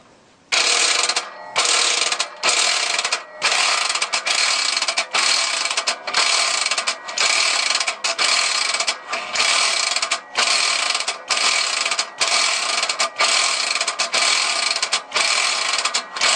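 A hand ratchet works bolts loose on a 2003 Toyota 4Runner V8 with an A750 transmission, a loud, close, rapid clicking in regular bursts separated by brief pauses, repeated steadily, with no talking.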